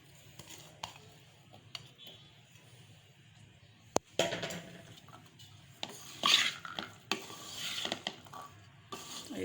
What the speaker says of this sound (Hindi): और इस वक्त मैं ये उबले हुए आलू भी डाल दूँगी।